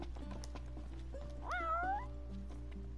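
A cat in the video game Final Fantasy XV gives a short rising meow that stands out over steady game music and ambience.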